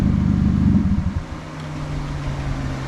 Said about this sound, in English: Fan's doing overtime.